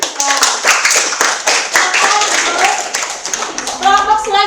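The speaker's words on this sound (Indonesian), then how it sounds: "kita beri tepuk tangan untuk kelompok 3" Children in an elementary school classroom clap for a group of classmates, loud and close, rhythmic bursts of hand claps with children's voices chattering underneath and rising at the end.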